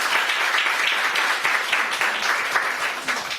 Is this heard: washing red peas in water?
no